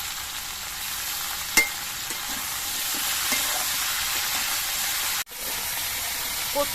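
Taro stolons frying in a pan with salt and green chillies, a continuous hissing sizzle with occasional light taps of a spoon, then a brief cut before the sizzle resumes.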